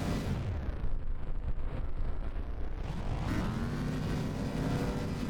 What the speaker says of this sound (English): Getting some pretty nice explosions there.